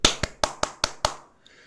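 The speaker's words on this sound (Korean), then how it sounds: "박수!" Six sharp hand claps at a steady, even rhythm, fairly close and loud, with no one speaking.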